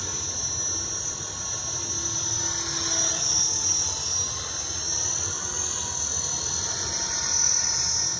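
A Trex 450 RC helicopter flies at an outdoor field, its high, steady rotor and motor whine droning continuously with slight swells in loudness.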